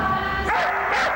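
Dogs barking and yipping at a dog dancing competition, short excited barks that carry over a busy crowd.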